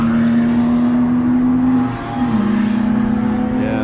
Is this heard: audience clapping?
no